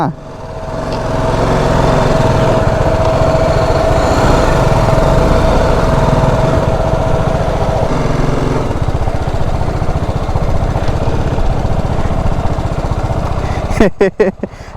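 A heavy motorbike engine drones loud and steady for several seconds while riders try to move it, the sound wavering under a voice, then sputtering in a few sharp bursts at the end.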